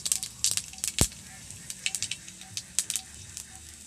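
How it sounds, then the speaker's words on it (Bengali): Dried chili and five-spice seeds tempering in hot mustard oil in a wok, a short burst of crackling and popping with sharp spits and one loud splatter near the start. "ফোড়ন দিয়ে দিচ্ছি"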